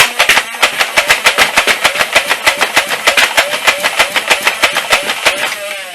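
An Adventure Force Rogue foam dart blaster fires a rapid, steady string of loud mechanical thumps, about five per second, over a whirring flywheel hum, close to the mic.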